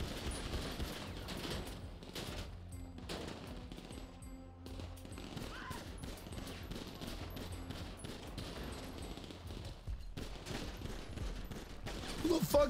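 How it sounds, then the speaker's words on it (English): Gunfire in the GTA 5 Online Judgement Day Halloween event, a dense stream of rapid shots and bursts running the whole stretch over steady game sound, loud and busy throughout. "Who the fuck is shooting at me?"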